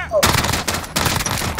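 Rapid automatic gunfire rattles loud and close in a Call of Duty Warzone Resurgence match, a dense burst with a brief break near the middle, and a voice is heard faintly beneath it.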